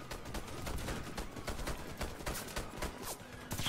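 Fast volleys of gunfire in the Warface video game, a string of sharp, closely spaced shots forming a near-continuous rattle at moderate level, no talking.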